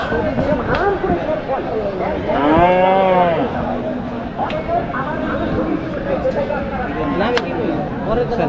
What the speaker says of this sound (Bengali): এখানে একটা সাদা গরু সুন্দর